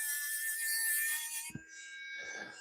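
A small Dremel rotary tool grinds with a steady, bright high-pitched whine and raspy scraping, then cuts off abruptly partway through, leaving a softer, lower motor whir.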